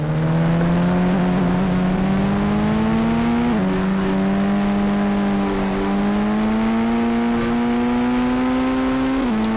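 A Wagon R car engine in the Indian Bike Driving 3D video game hums with a steady, loud synthetic whine that rises gradually, with brief dips where the pitch drops and climbs again, no voices.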